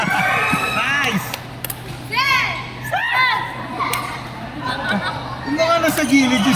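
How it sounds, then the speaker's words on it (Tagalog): Spectators at the side of a badminton doubles match shouting and cheering, excited high voices and chatter rising and falling throughout, close and fairly loud. "Yung mga nasa gilid yung sumisigaw."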